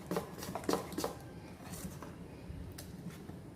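Millet appam batter with cardamom powder and grated coconut is stirred in a bowl, giving a few soft knocks and scraping clinks of a utensil at first, then quieter, faint mixing noise.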